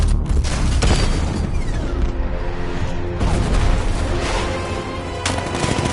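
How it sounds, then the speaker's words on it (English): Heavy cannon fire and gunfire from a tank in the Batman Arkham Knight video game, a dense, loud barrage of booms and rapid shots rolling on continuously for the whole stretch with no break. "60mm cannon operational."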